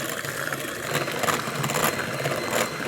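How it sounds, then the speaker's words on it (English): An electric mixer whirs steadily as it beats carrot pudding batter made with sugar, following a 1777 Scottish recipe, a continuous close motor drone with slight pulsing as the beaters turn, and no talking. "I'm going to use an electric mixer"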